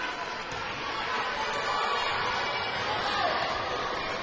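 Crowd in a gym at a 2008 high school volleyball match between Hudson Raiders and EC Memorial, a steady murmuring roar of spectators swelling slightly louder through the clip with cheering under it.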